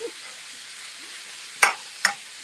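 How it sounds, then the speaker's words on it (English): Food for taco soup fries in a pan, making a steady low sizzle throughout. Two sharp utensil clanks or stirring knocks punctuate it near the end, close up with no voices. "now you can hear my frying going on."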